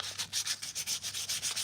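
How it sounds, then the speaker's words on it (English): Hand sanding removes a thin Bondo slurry from Mandalorian armor pieces in quick, even back-and-forth rasping strokes, about eight close, rhythmic passes in under two seconds. No voices are heard. "This is mostly Bondo slurry that I'm sanding off here, so it sands off really easy."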